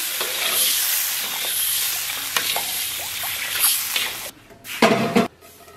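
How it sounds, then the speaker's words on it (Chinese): Doubanjiang and chili sauce stir-fry over low heat in a pan, giving a steady close sizzle with spatula scrapes and a few clanks of the pot, and no voices. "然后小火给它炒出红油"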